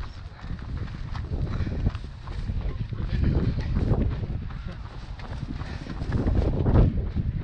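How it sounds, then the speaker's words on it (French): Steady coastal wind buffets the microphone in low rumbling gusts during a trail run at Mont Saint-Michel by the English Channel, swelling and easing throughout, with a person talking faintly underneath. "on commence à se taper un peu de vent"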